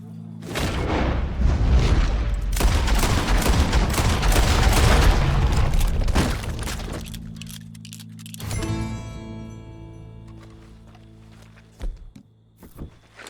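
Gunfire in the video game Red Dead Redemption 2, a long dense roar of booming shots and rumbling for about six seconds, then a fading tail with a couple of isolated thuds near the end.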